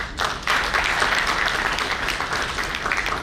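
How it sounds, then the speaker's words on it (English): A national convention audience gives a round of applause, many hands clapping in a steady, full-room wash that swells quickly and holds at an even level. "I think we can all clap for this."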